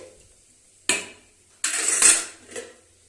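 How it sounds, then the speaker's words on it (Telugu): Tomatoes stirred in a cooking pot, then the lid set down: a few separate metallic clanks and a longer scraping rattle of utensil against the pot, close up in a quiet kitchen. "టమాటా వేసి మూత కలుపుకొని ఇలా కలుపుకుంటాను కలుపుకొని మూత పెడతానండి"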